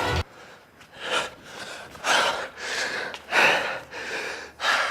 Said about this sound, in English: I don't know why I'm breathing so hard